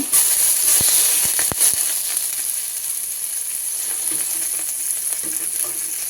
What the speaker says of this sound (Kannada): ಪ್ಯಾನ್ ಬಿಸಿ ಆಗ್ಲಿಕ್ಕೆ ಇಟ್ಟಿದ್ದೇನೆ ಆಯ್ತಾ ಅದಕ್ಕೆ ಈಗ ಫಸ್ಟಿಗೆ ಬೆಣ್ಣೆ ಹಾಕ್ಕೊಳ್ತಾ ಇದ್ದಾನೆ